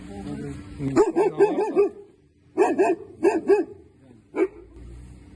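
A guard dog barks at patrol officers arriving at a house in the evening, sharp close barks in two quick bursts with short pauses between them, followed by a single last bark, with faint background noise between.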